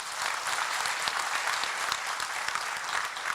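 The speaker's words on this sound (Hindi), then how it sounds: "इसके लिए भी ताली बजाओ तुम लोग।" Audience applause at a Patanjali Ruchi Soya event in Kolkata, a dense, steady crowd clapping that fills the whole stretch without a break.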